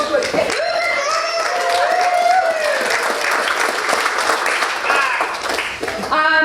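Wedding reception guests clapping for the bride, a lively burst of applause mixed with cheers and excited voices, people talking and calling out over the clapping.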